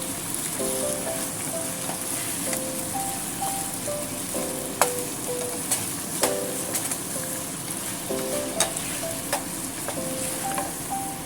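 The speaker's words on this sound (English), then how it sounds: "Then gently stir fry to mix everything well." Broccoli and tofu stir-fried with oyster sauce and potato starch sizzle steadily in a pan, with the spatula scraping and clicking now and then, close and fairly loud, with no voices.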